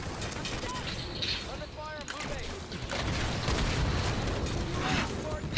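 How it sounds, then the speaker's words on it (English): Combat in the shooter Halo 5 during a multiplayer flag match, with scattered blasts, pops and weapon fire mixed with sci-fi electronic chirps, moderately loud under a busy game soundscape. "I keep exploding!"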